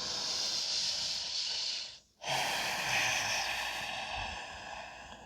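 Slow, deep breathing during a yoga practice, a long airy hiss of one breath, a brief silent pause, then another drawn-out breath, close and soft, no talk.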